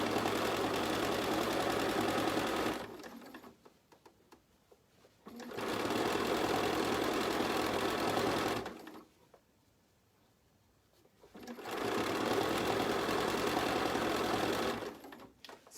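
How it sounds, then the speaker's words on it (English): A sewing machine stitches a quarter-inch seam along a quilt edge in three loud, even bursts of rapid mechanical whirring, separated by brief near-silent pauses, close up with no talk. "And I'm going to stitch 1/4 of an inch all the way down this edge"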